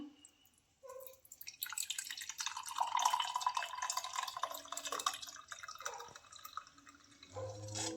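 Carrot juice drips through a straining cloth, a quiet, steady patter of drops that grows denser in the middle and then eases off, with no talking.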